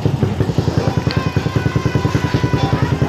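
Suzuki Satria F150 motorcycle engine idling with a loud, rapid exhaust pulse, steady and close, with a brief metallic tick partway through.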